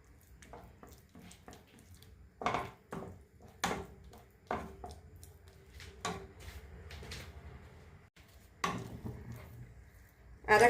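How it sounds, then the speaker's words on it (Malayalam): Pasta with chicken sausage being stirred in a pan, with intermittent scraping and clattering knocks of a utensil against the pan, spaced irregularly, close and fairly loud over quiet background. "ഈ കട്ട പോലെയുള്ളതെല്ലാം നമ്മൾ നന്നായിട്ട് അതിലേക്ക് മിക്സ് ചെയ്ത് കൊടുക്കാം"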